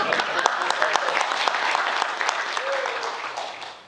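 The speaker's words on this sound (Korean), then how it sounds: "여러분 큰 박수로 맞이해 주시기 바랍니다" Audience applause welcoming a speaker at an AI forum event in Korea, a full, sustained round of clapping that holds steady before tapering off at the end.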